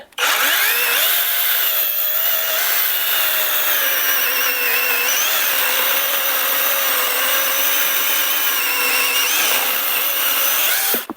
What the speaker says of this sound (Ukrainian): Вона своїм тонким ланцюгом розрізає як масло.